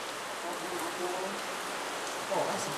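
Heavy monsoon rain on Palawan island pours down in a dense, steady hiss, close and even throughout, with faint drips and splashes and no one speaking.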